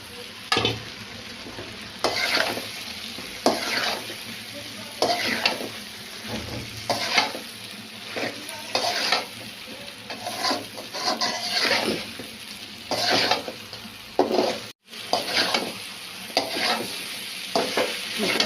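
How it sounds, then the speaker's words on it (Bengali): Shrimp frying and being stirred in a spice masala with tomato: a steady sizzle broken by repeated scraping stirs, close and moderately loud, with no talking. "এখন চিংড়ি মাছটা ভুনা করে নেব।"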